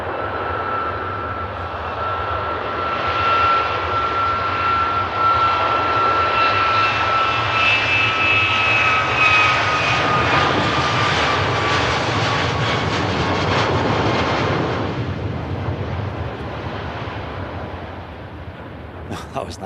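An Airbus airliner passes overhead, its engine roar swelling into a loud, sustained whine and rumble, then easing off as it moves away, with faint voices in the background.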